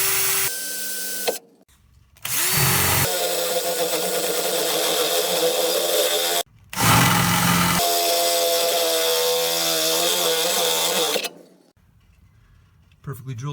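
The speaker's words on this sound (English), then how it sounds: "I'll drill first those holes, put the nut cert in" Power drill boring holes into the bed of a 10th-generation (1997-2004) Ford F-150 step-side truck, two long loud whining runs separated by short pauses, close up and alone.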